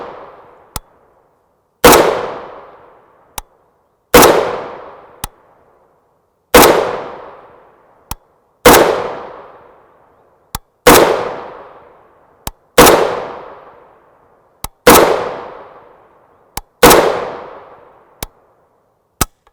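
Rifle shots of 7.62x39mm 123gr FMJ Belom brass-case ammunition, eight loud sharp reports fired at slow, even intervals, each with a ringing decay and a small metallic clink between shots, close and alone.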